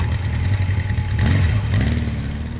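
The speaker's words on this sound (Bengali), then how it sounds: "সাইলেন্সারের গর্জন শুনলেই বুক কেঁপে ওঠে" A motorcycle engine rumbles and revs, its exhaust roaring steadily with a brief surge in the middle.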